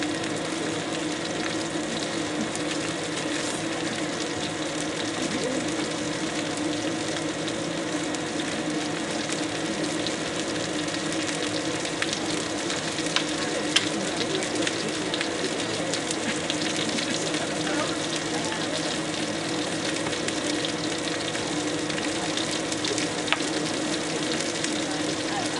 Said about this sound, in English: I'm just going to sear that back in there